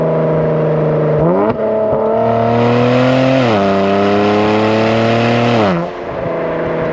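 A Kia Stinger with catless downpipes revs hard in a close, loud run, its engine tone climbing and stepping through several shifts with a brassy, trumpet-like rasp and a high turbo whine over the top before easing off.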